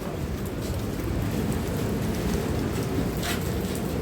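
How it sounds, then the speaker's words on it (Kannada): Steady rain falling outdoors at a scenic viewpoint, a continuous dense hiss with a low rumble beneath, even and fairly loud throughout, no voices. "ಮಳೆ ಬೇರೆ ಬೀಳ್ತಿದೆ"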